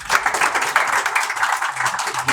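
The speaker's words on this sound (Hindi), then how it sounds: "आपकी क्लैपिंग, आपकी ताली की गूंज" An audience in a television studio claps steadily for a singer's introduction, with dense, even applause throughout and no break.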